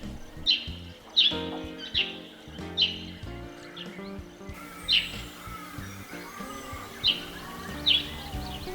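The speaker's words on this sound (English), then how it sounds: "The individual call of wood swallows can be quite varied, but generally it is just like a small barking dog." Woodswallows calling outdoors, a series of short sharp chirps repeating roughly once a second, each call clear and fairly close over a quiet background.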